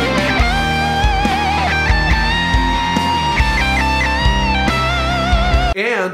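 Guitar recorded through a minimal home recording setup in a small room, with a bright strummed chord part over a full backing and a steady rhythm, loud and close.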